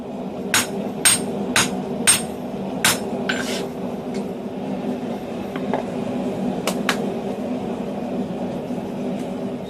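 Hand hammer blows shaping the jaw of a pair of square-jaw blacksmith tongs on an anvil, a run of sharp ringing strikes in quick succession, then a pause and a few more isolated hits, close and loud.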